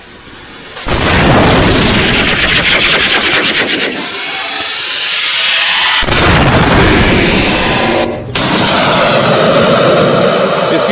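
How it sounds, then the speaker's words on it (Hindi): Launch of a Nag anti-tank guided missile: a sudden loud blast followed by sustained roaring rocket exhaust, with a second sharp burst near the end, no voices heard. "इसे नाग मिसाइल कहते हैं।"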